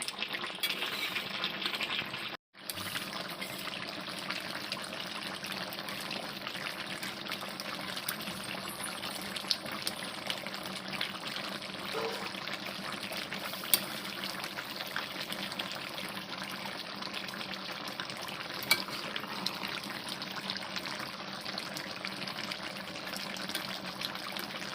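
Tomatoes boil in a pot for chicken karhai, giving a steady soft bubbling and hissing simmer throughout, close by and even, with a brief clatter near the start.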